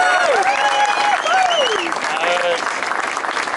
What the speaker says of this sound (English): How about a round of applause for Jenny Love Meyer